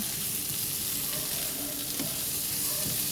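Bitter gourd (ampalaya) sautéing in hot margarine in a pan, giving a loud, steady, dense sizzle that runs unbroken throughout with no pauses.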